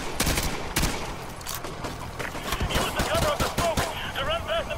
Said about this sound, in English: The autocannon hurts. Those autocannons fucking hurt